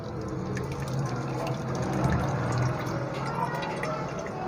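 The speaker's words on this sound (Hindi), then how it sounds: "ऐसे थोड़ा थोड़ा करके पानी डालते रहेंगे इस पे।" Water is poured little by little over ground almonds held in a fine cloth, a steady soft trickling and dripping that continues without break in a kitchen.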